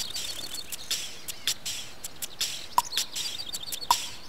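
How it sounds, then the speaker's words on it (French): Cartoon birds eating plums in a countryside orchard, short bright chirps and tweets repeating irregularly throughout, light and close, with no voices. "Didou, des oiseaux! Ils mangent nos prunes!"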